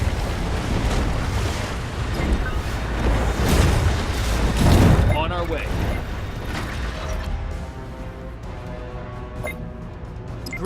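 Explosions from an artillery strike in the strategy video game Anno 2205 rumble in a loud, dense burst for several seconds, with mechanical clanking and radio-style voices heard over the barrage as it fades.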